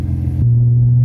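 An Infiniti G35 with test pipes and 3-inch exhaust piping, a loud close engine rev that drops into a deep, steady droning rumble.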